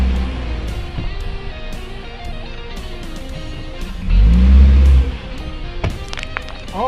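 A truck engine revs as the vehicle repositions, idling with a low rumble before a strong, loud surge lasting about a second, with intermittent knocks and clatter around it.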